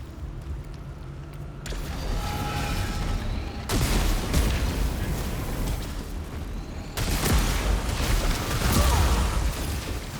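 Turrets fire in Returnal, a sci-fi shooter, as dense bursts of gunfire and booming blasts swell in loud waves over a constant rumbling backdrop, with no voices.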